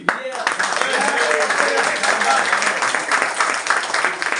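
A New Year celebration stage audience claps after a first-time performance, a continuous crowd applause at moderate level with a voice talking over it.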